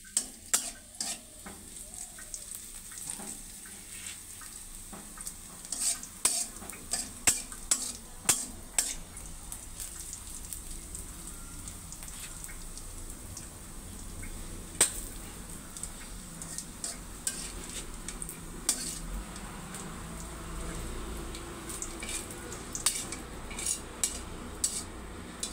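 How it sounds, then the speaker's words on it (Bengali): An egg fries in a pan with a constant soft sizzle, broken by frequent clicks and scrapes of a utensil stirring against the metal. "ডিমটাকে আবার ভেজে নিতে হবে।"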